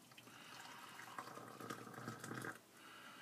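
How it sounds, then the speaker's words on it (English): Boiling water poured into a cup in a lab setting, a steady close gurgling pour lasting a few seconds before tapering off, with no talking. "So here I go, pouring boiling water."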